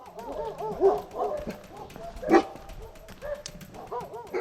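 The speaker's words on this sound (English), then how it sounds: "Without noticing, the road behind me started to be blocked off by dogs." Multiple dogs bark, yip and whine on a road, with overlapping calls at close to moderate distance, some rising in sharp bursts over steady outdoor background noise.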